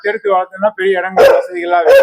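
Dogs at a dog hostel in Salem bark nearby, with a couple of loud, sharp barks among yips and whining sounds, while a person talks over them.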